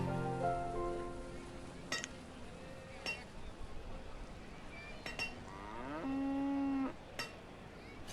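A cow in a video game moos in a long, low drawn-out call, alone over soft rain-like ambience with a few clicks, in a snowy game setting.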